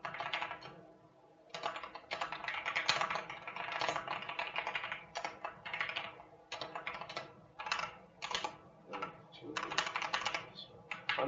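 Rapid typing on a computer keyboard while entering text into a file in the nano editor on a Linux terminal, dense bursts of close key clatter broken by short pauses.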